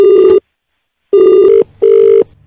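A landline telephone rings in three electronic bursts, the first short and the next two longer, loud and close with brief silent gaps between them.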